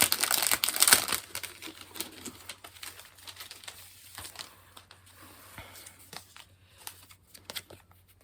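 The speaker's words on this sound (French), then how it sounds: "Là, on a une petite carte que je vais ouvrir." A small card is opened with loud, close paper crinkling and rustling at first, then softer scattered rustles and light taps that fade and trail off.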